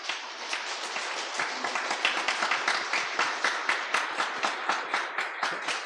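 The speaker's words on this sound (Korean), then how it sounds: "저 위에서부터 박수 한번 힘차게." A church congregation at an installation service applauds, a dense, full-room wash of clapping that settles into a steady rhythmic beat, with no voices over it.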